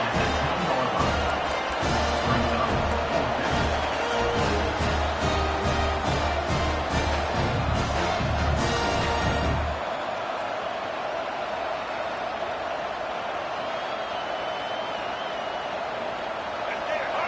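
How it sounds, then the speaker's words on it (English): A football stadium crowd roars during a fourth down, a loud, dense wall of cheering with rhythmic thumping for the first ten seconds, then easing into a softer, sustained crowd rumble. "This crowd busting the decibel meter and trying to will a fourth down stop."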